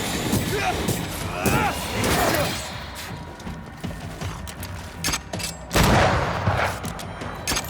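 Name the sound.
gunfire from a corpse enemy in Banishers: Ghost of New Eden video game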